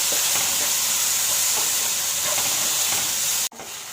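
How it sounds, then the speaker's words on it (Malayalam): Tomatoes softening in a pan for paneer mutter masala, a loud steady hiss and sizzle with soft stirring scrapes, ending in an abrupt cut near the close; no one speaks. "ഇനി തക്കാളി ഒന്ന് സോഫ്റ്റായി ഒന്ന് കുക്കായി വരുന്നവരെ നമുക്ക് ഇതുപോലെ ഇളക്കി കൊടുക്കാം"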